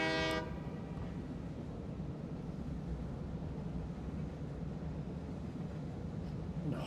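A train in the factory-building video game Satisfactory gives a short horn blast, then a steady, loud rumble of rolling rail cars continues alone.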